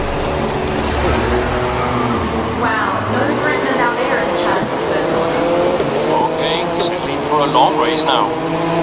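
Grid 2019 race cars revving and roaring together at the race start, a dense, loud engine wall with shifting tones, and a commentator talking over it.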